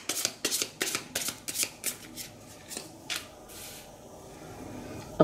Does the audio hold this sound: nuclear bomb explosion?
no